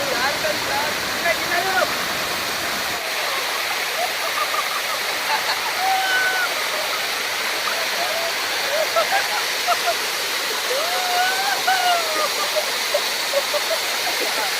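Baabijhari waterfall at Kerameri pours in a loud, continuous broadband rush of falling water, with faint high chirps drifting over the roar.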